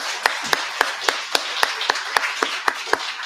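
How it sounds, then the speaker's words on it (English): A few people at the close of a conference day in León, Spain clap sparsely, a dozen or so distinct sharp claps spaced out rather than a full ovation. "If we could just give everyone a last round of applause for the day."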